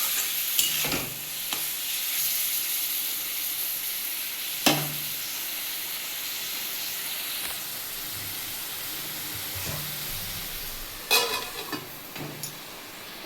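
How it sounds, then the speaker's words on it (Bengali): Tomatoes with turmeric and salt cook in a pan for chutney, giving a continuous soft sizzle and hiss, with occasional scrapes and clinks of a spoon stirring; no voices are heard. "একটু হলুদ নুন দিয়ে দিলাম দিয়ে একটু নাড়িয়ে"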